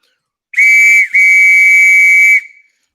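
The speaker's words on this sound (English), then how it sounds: "Y'all can't get ready when I blow the whistle" A loud, shrill whistle blows twice in quick succession, a short blast then a longer sustained one, close and piercing.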